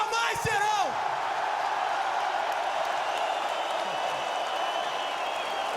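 A hometown crowd in a UFC arena in Rio keeps up a continuous roar of cheering. It starts with a shout and a short burst of voices, then holds as a dense wash of sound.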